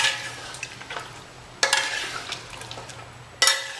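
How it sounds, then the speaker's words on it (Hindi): Mutton curry stirred and fried over a raised flame in a pan: steady sizzling hiss with soft scraping, broken by two sharp, bright spoon strikes against the pan, alone without talk. "अब इसे बढ़िया भुनेंगे 10-12 मिनट तक"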